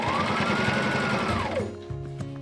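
A sewing machine top stitching along a zipper on a book sleeve or pencil case, heard as a loud, close, fast continuous whir of stitching that winds down and stops abruptly, followed by a few light clicks.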